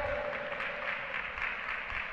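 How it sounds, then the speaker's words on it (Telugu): Congregation at a church service clapping hands together in praise, a dense, continuous wash of many hands applauding at moderate volume, sustained evenly across the moment. "చప్పట్లతో దేవుని స్తుతిద్దాం, హల్లెలూయా."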